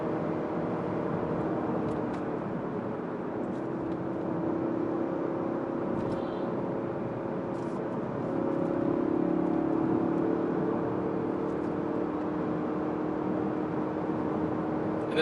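Ford Focus RS cruising on a highway during a road test, a steady low engine and road drone at moderate level, with faint intermittent clicks over it.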